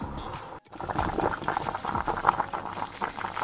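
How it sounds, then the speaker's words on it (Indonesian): Beef pieces boiling in a pot of water, a steady close bubbling and patter that carries on throughout, with one brief dropout near the start. "kita rebus dagingnya hingga 3/4 matang."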